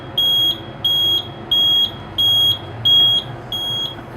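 A perimeter security system panel sounds a trouble alert: six evenly spaced, loud, high electronic beeps, each about half a second long, with no talk.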